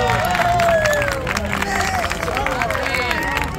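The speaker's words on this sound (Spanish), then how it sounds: "Un aplauso para el señor Guillermo." Audience at a contest for the most Mexican shout in Jalisco claps and cheers amid crowd chatter, a lively, fairly close mix of clapping and voices throughout.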